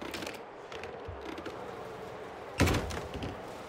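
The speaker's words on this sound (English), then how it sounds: "I locked the door." Door being locked in a horror video game, a quiet mechanical creak followed by a sharp metallic clunk of the lock and a brief rattle, set against low ambient noise.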